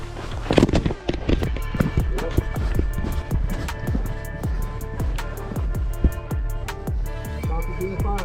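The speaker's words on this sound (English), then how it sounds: "Shots are being fired." Rapid gunshots fired during an active-shooter incident crack out in a steady, fast series of sharp reports, loud and close, with shouting voices mixed in throughout.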